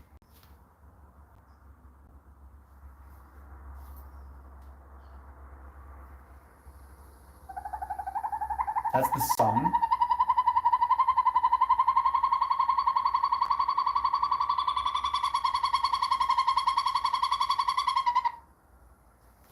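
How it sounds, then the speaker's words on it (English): A northern hawk owl call plays after a quiet stretch: a loud, sustained trilling tone that holds steadily for about ten seconds and then cuts off, with a brief sweep near its start and a short spoken remark nearby. "northern hawk owl sound."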